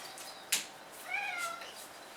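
A house cat at breakfast time gives a soft, faint meow, preceded by a brief sharp clink, in a quiet indoor room.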